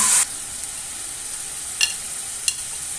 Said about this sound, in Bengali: এবার আমি দিয়ে দিচ্ছি সামান্য একটু পানি,